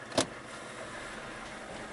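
A 2003 Mazda Protege engine idles roughly with a misfire after being put into gear, a steady low running drone throughout with a brief sharp transient near the start, no voices.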